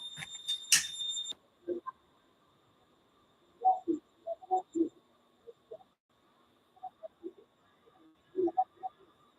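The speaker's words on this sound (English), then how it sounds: "Told that the house alarm's going off." A house alarm sounds in a loud burst of shrill, high tones during the first second, then falls away, leaving scattered nearby voices talking for the rest.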